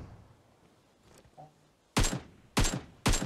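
Sniper gunfire in PUBG Mobile comes as three loud, sharp reports spaced about half a second apart, following a quieter thump and faint background noise.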